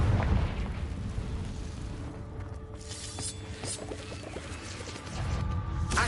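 A Confringo fire spell blasts in the video game Hogwarts Legacy, booming explosions and crashing debris rolling through a cave with a deep rumble that swells again at the end.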